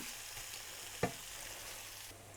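Chilli chicken stir-fried in a pan with plenty of curry leaves, a soft steady sizzle with one sharp scrape of a spatula midway, fairly faint and close.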